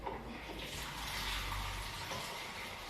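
Water pours in a soft continuous stream into pancake batter in a home kitchen, faint and steady throughout.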